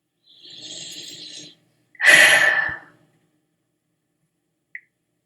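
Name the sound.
big noisy breath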